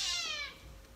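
An angry cat lets out one loud, drawn-out complaining meow during rectal temperature taking at a veterinary exam, close and falling in pitch as it fades.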